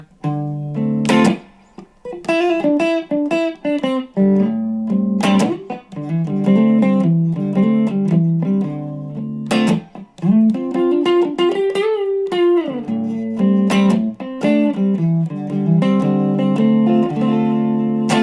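A loud, distorted electric guitar plays a melodic lick with bending notes and ringing double stops, phrases separated by short pauses.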